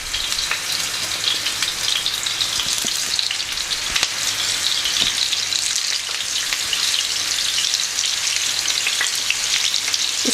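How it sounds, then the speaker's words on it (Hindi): Muthi kebabs made from raw mince shallow-fry in hot oil in a frying pan, giving a dense, steady crackling sizzle with scattered pops, close and loud throughout with no voices. "जैसे ही गर्म हो जाता है आप इसके अंदर जो है अपने कबाब यूँ ऐड करते हैं"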